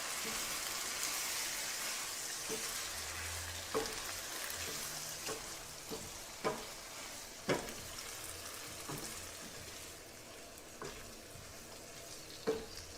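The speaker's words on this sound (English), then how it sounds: "we're just going to let that simmer away for about 10 minutes" Tomato pasta sauce with canned tomatoes bubbles in a pan, a soft continuous sizzle with scattered pops and occasional stirring knocks, fairly quiet.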